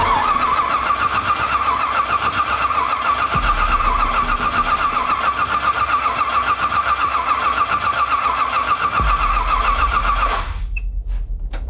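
A 6.0 LS V8 swapped into a Nissan 240SX cranks with a steady, grinding churn for about ten seconds, then cuts off abruptly, leaving a few faint clicks. The sound is close and loud throughout.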